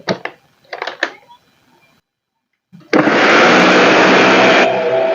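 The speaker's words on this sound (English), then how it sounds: "I'm just going to pour this into the blender, just about half full, and then I let the blender do its magic." A blender whirs loudly and steadily for a couple of seconds as it purees porridge oats for oats fufu, with its tone shifting slightly near the end, after some brief clattering handling sounds and a short pause.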